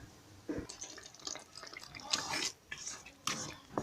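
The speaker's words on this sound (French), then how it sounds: "Notre bolognaise végétarienne continue à faire son bonhomme de cuisson." Vegetarian lentil bolognese sauce cooking in a pot, with soft bubbling, wet plops and a few sharper splashy bursts at close range.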